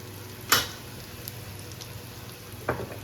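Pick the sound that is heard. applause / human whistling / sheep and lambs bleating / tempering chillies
tempering chillies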